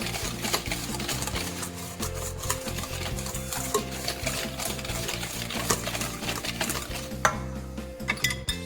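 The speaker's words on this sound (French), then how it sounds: "Et je continue à bien mélanger." A spoon stirs chocolate cake batter with cocoa powder, vanilla and grated zucchini in a bowl, giving a steady scraping, clinking rhythm close up with a faint sizzle-like texture, no voices.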